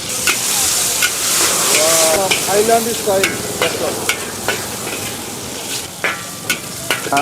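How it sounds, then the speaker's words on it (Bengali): Chicken pieces fry in hot oil in a wok for a quick chicken pasta, giving a steady loud close sizzle with regular clicks and scrapes of stirring throughout and a brief voice partway through. "আমার অয়েলটা গরম হয়ে গেছে, এখন আমি এখানে চিকেন দিব।"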